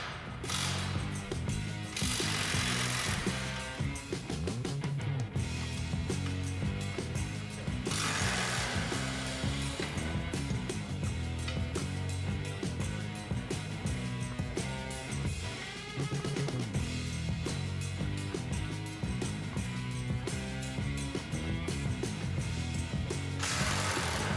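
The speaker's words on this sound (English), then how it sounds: "remove the 3 half-inch bolts and lock nuts that secure the axle to its shipping bracket" A ratchet wrench takes half-inch bolts and lock nuts off the axle shipping bracket of an MBW MM90 mortar mixer, giving rapid, continuous close metallic clicking in steady runs with no talk.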